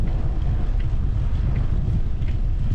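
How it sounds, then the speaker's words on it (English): Strong wind buffets the microphone during a bike ride along the Elberadweg, a loud continuous low roar and rumble without a break, with no talking. "because that wind, it really makes a difference"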